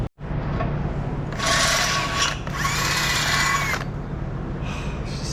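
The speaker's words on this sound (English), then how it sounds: "It says to use a 13/22 drill bit to enlarge them" A power drill bores holes through the tubular cage of a 2022 Can-Am Maverick X3 with a drill bit, in two close, loud whining bursts with a short pause between, then quieter tool handling at the end.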